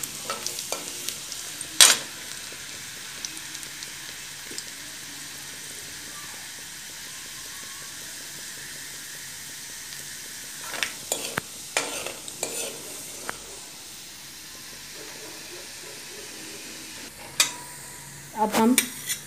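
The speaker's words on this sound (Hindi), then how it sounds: "फिर इसमें 4 से 5 कली लहसुन लिया है, जिसको मैंने बारीक बारीक काट लिया है। इसे अच्छे से ब्राउन करेंगे।" Finely chopped garlic fries in a pan for dal fry, giving a faint steady sizzle and hiss with a few clinks of a spoon stirring against the pan; quiet, no talking.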